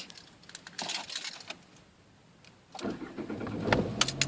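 A car engine cranks and catches during a first driving-school lesson, preceded by faint clicks and rattling, then a louder rough churn as the motor turns over close by.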